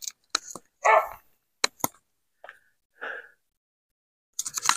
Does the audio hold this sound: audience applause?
no